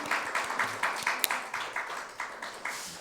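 A church congregation applauds during a Sunday service, mostly in a steady, rhythmic unison clap with regular beats and a few sharper claps standing out, at moderate loudness.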